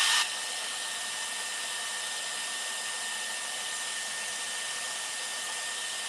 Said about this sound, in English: now I'm just going to come back up and give it a cold shot